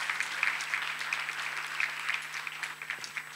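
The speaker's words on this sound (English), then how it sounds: "Let us clap for Master Jesus." A church congregation claps together in steady, sustained applause at a testimony service, the dense patter filling the whole stretch at moderate loudness with no one speaking over it.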